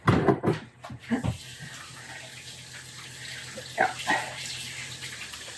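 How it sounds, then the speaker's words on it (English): A kitchen tap runs steadily while hands are washed after making rice-cereal ice cream cone treats, with a brief voice and some handling noises at the start. "And I need to wash my hands again."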